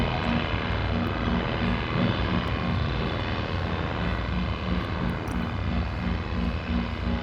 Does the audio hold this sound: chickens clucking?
no